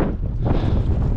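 Strong wind buffets the microphone outdoors during a partridge hunt, a loud continuous rumbling roar with gusty swells and no talk.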